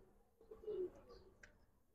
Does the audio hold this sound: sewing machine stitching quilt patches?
no